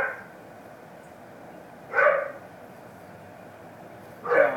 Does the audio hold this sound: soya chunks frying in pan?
no